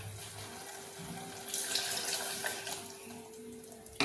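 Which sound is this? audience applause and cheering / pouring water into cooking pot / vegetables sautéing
pouring water into cooking pot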